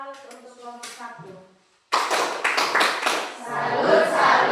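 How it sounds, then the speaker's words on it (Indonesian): After someone speaks, a class group claps a quick rhythmic salute pattern of beats for a presenting group, blending into denser, continuous clapping. "Kita kasih tepuk salut untuk kelompok 1."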